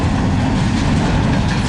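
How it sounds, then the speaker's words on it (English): Freight train hauling Hapag-Lloyd containers rolling past close by, a loud continuous rumble with rhythmic clickety-clack of wheels over rail joints and no voices. "a lot of hand-paid Lloyd containers and 8781's leading this train"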